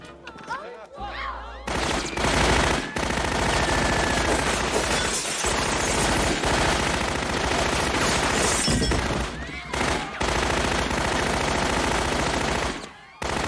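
Sustained heavy weapon fire in Star Trek Online during a battle with the Borg, a dense, loud barrage of rapid shots and crashing impacts running almost continuously, with brief gaps and a voice talking over it.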